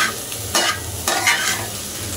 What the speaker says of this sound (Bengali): আমার নুডলসটা তো প্রায় ভাজা ভাজা হয়ে আসছে সবজিটা